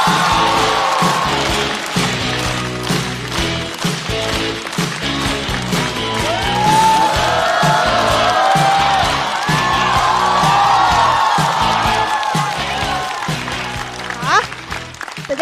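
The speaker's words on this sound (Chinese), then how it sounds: "掌声欢迎山河。" A studio audience at a stand-up comedy show claps, cheers and whoops to welcome comedian Shanhe, forming a lively crowd roar that swells mid-clip while a voice speaks over it.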